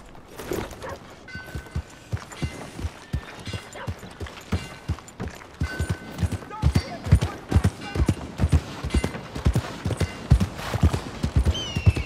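Horse hooves clip-clop in a steady, rhythmic gait in Red Dead Redemption 2, the sharp repeated strikes close and fairly loud, with a voice speaking briefly over them.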